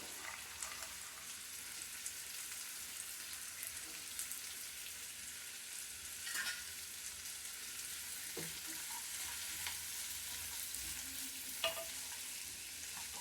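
Amaranth stem curry is stirred in a frying pan, giving a soft, steady sizzle with occasional scraping stirs over a quiet, even background.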